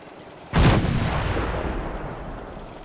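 A single loud gunshot from Fallout 4 bursts out after half a second of quiet, then a long booming tail of reverberant rumble lingers and slowly decays.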